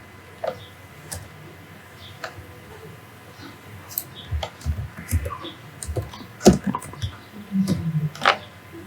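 Computer keyboard keys tapped irregularly while a command is entered on a Windows machine, with scattered close clicks and a busier burst of typing toward the end.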